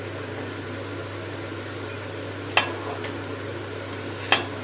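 Raw banana koptas deep-frying in hot oil, a steady, even sizzle throughout with two sharp utensil clicks against the pan and no talking.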